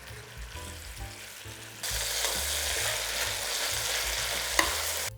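Beef for a barley stew sizzles and fries in a pot while being stirred, a quieter scrape at first, then a loud steady sizzle taking over partway through and running to the end, with a brief clatter near the close.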